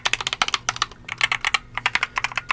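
Rapid close-up typing on a 60% gaming keyboard with no number pad or arrow keys, crisp clicky keystrokes in quick irregular bursts with brief pauses, loud and alone without voices.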